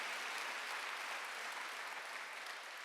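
Congregation applause at a Korean Wednesday church service, a quiet, distant wash of steady clapping that holds evenly before fading slightly at the end.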